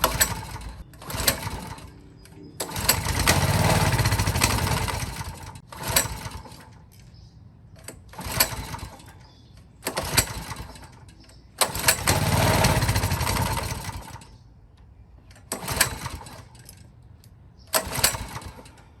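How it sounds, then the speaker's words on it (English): A CT200U minibike engine tries repeatedly to start, with pull-cord rasps and brief sputtering catches, two longer bursts where it runs roughly before dying, then more short pulls. "it's hard starting. It really just doesn't want to go when you give it the gas."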